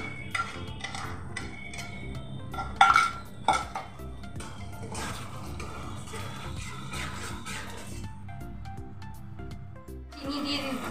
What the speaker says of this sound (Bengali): এবার আমি মশলার পেস্টটা দিয়ে দিলাম।